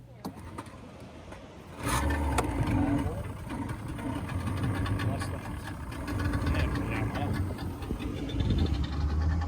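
A boat engine starts up with a jump in loudness as the boat heads out to sea, then runs at a steady low rumble with splashing and clattering over it, and voices talk faintly underneath.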